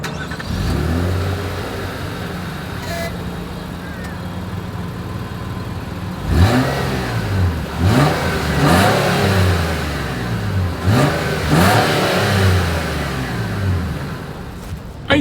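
A 2024 Nissan Pathfinder engine idles, then revs hard several times in quick succession, each rev rising and falling loudly through the exhaust up close.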